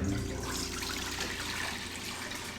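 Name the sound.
water poured into a pan for grits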